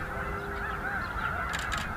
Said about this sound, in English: Some Canada geese hanging around on a small slough.